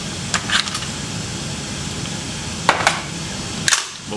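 A WE Tech M4 gas blowback airsoft rifle has its bolt catch released, giving a few sharp metallic clacks and snaps close up over a steady low room hum, with no talking.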